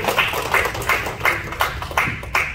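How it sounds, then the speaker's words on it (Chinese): A small club meeting audience claps in encouragement for a speaker, with about six distinct, evenly spaced bursts of clapping, fairly close and sparse, with no speech over it. "我们也给伯顺鼓励的掌声"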